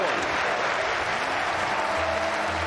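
A large esports arena crowd at the Rocket League RLCS Season 7 finals cheers and applauds continuously, a dense steady roar with a commentator talking over it.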